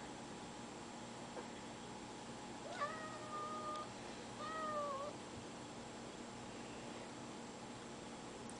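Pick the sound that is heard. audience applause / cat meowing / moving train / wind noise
cat meowing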